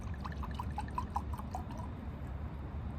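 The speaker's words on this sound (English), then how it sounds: "Let's go and pour some in a glass" Rum poured into a glass, a short run of bright trickling and dripping splashes over the first half of the clip, close and fairly quiet, fading into a low background hum.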